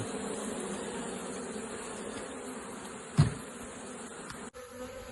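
A steady, dense hum of many honeybees buzzing together as they enter a hive, close and continuous, with a brief knock partway through.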